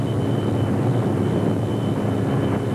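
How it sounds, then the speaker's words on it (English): A Ford rally car engine at full throttle on a Dakar 2000 stage, a steady loud roar holding constant with no breaks or talk. "Keep it straight, keep the throttle wide open"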